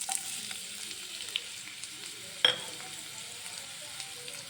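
A cup of onions fries in hot oil with a soft, even hiss, a single sharp click of a utensil breaking the steady sizzle.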